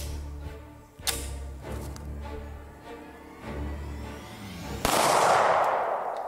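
A 9mm pistol fired into a calendar, several sharp cracking shots spaced about a second apart, then a loud burst of broadband noise near the end, with no talk.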